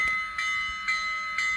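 A Kato N scale FEF3 model locomotive with an ESU LokSound decoder rings its bell, giving evenly spaced clangs about every half second, clear and alone.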